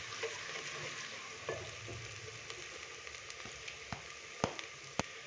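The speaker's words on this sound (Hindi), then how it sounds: "अदरक और लहसुन के पेस्ट को अच्छे से मिक्स करेंगे और हल्का सा इसको फ्राई करेंगे, जस्ट 30 सेकंड के लिए" Ginger garlic paste sizzling in a pan, a soft steady frying hiss with occasional louder crackles and pops, no voices.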